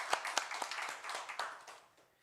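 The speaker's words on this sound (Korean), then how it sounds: "우리 하나님께 영광의 박수로 올려드리겠습니다." A brief burst of scattered hand clapping from a church congregation at a Sunday service, with a few sharp claps standing out before it quickly tapers off.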